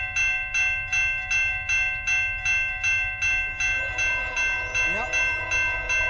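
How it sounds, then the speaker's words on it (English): Rhythmic clacking of train wheels over rail joints repeats evenly as a westbound CN mixed freight train rolls by, with a steady ringing tone over the top. "Second train westbound."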